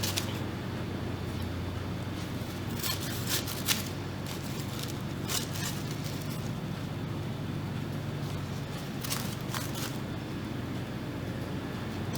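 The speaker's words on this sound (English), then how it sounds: "So I'm just going to slide my scissors in here" Scissors snip through folded tissue paper during a paper flower crown craft, a few quick crisp cuts in small clusters, faint and close over a steady background hum.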